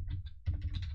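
Form values being typed on a computer keyboard, a quick run of clicky keystrokes with a short pause partway through, close and clear, no voice.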